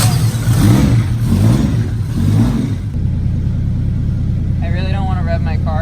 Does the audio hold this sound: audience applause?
no